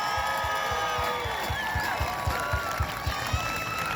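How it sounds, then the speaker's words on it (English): A football crowd at a Holmdel High School game applauds and cheers for the school's 1970 and 1971 pioneers, a dense, steady wash of clapping with a regular low thumping beat running underneath. "let's give a big round of applause to the 1970 and 1971 pioneers of Holmdel High School"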